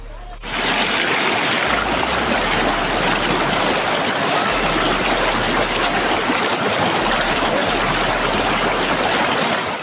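Steady rushing water fills the clip, a constant broad splashing flow like a stream or small cascade, loud and close with no pauses.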